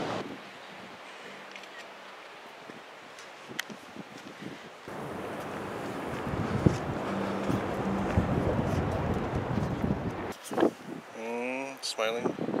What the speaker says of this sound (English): It's gonna be lots of windy in the sound.